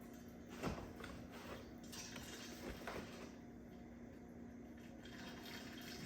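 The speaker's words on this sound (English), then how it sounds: "I tilt this sideways and I just get something to hold it in place and pour slowly." Beer poured slowly from a tilted bottle into a small home keg, a soft continuous liquid trickle and fizz with a steady low hum underneath and a couple of faint clinks.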